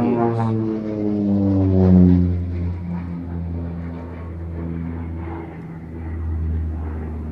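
A propeller aircraft flies past at the Midlands Air Festival, a loud steady droning hum with rising and falling engine tones that swells and then eases as it passes.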